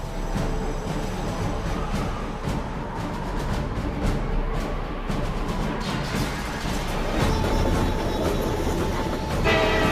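Passenger train running along the tracks, a steady loud rumble with rhythmic wheel clatter and a brief horn, close and continuous with no voices.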